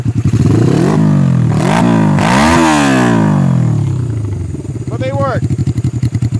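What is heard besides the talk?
1982 Suzuki GS300 custom motorcycle engine running and revving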